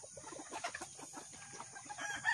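Fighting roosters in a backyard cluck and crow in a busy overlapping chorus, the calls moderately close and steady with a few louder bursts.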